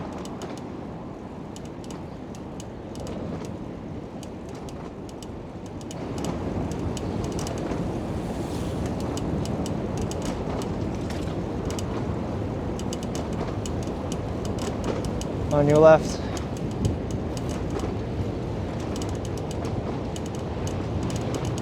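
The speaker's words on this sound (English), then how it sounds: "Sounds like there's a train going on the other side." A train rolls past on the far side near a riverside bike route, a steady low rumble under wind noise that swells partway through, with a brief spoken call from a passing cyclist.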